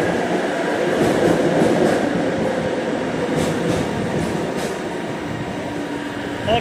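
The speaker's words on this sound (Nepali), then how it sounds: "ट्रेन आइसकेको छ, हामी अब ट्रेनमा जान्छौँ।" A metro train pulling into a station in Kuala Lumpur, a loud steady rumble and rolling wheel noise filling the platform, easing slightly toward the end with a brief squeal.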